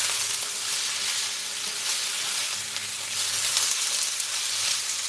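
Fried carrots sizzle hard in a hot pan, a dense, steady crackling hiss with small pops, close and constant, with no voices.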